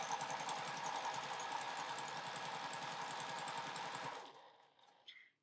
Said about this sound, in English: Lay it right sides together, and I'm just going to sew a 1/4 inch seam